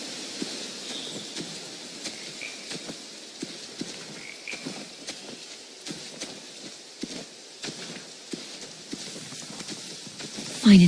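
Horses' hooves clop irregularly at a moderate distance over a low outdoor ambience, soft scattered thuds and knocks with a louder bump at the very end, no speech.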